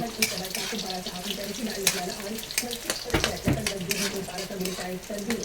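Kikiam fried in a pan for Filipino pancit: steady crackling sizzle with scattered pops and stirring clatter throughout, a continuous busy texture close to the pan.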